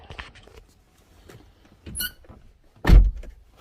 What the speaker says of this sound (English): Damn doors get squeaky in the wintertime.